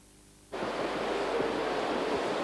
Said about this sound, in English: And here it is, the beach and a last look at the Pacific Ocean.